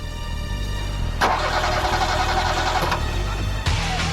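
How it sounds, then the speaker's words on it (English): Car engines in a burning road tunnel splutter and falter as fire starves them of oxygen, a steady rough mechanical drone with sharp bursts and clatters breaking through, close and loud. "Starved of oxygen, the vehicle's engines splutter and die."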